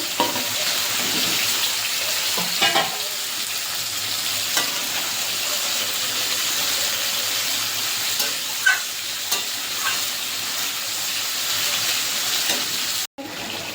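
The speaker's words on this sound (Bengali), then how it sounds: "ঝোল ফুটে গেছে ভেজে রাখা মাছগুলো আবার দিয়ে দেবো" Katla fish curry broth bubbling in a pan, a steady hiss and sizzle with occasional small splashes and clinks, close and continuous with no voices.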